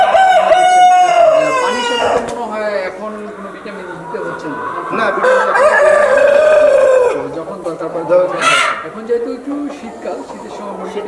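Tiger chickens on a farm crow and cluck nearby, a rooster call rising above steady clucking, while people talk over the birds throughout.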